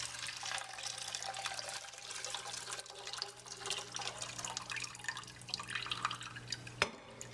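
Henna paste drips and trickles through a small hand strainer into a stainless bowl, faint, close, wet patters in irregular succession, ending with a single sharper metallic tap, with no voices.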